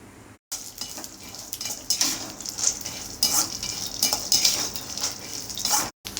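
Peanuts fried in a couple of spoons of oil are stirred in a pan, with repeated spoon scrapes and clinks over a soft, continuous sizzle, two brief silent gaps and no talking.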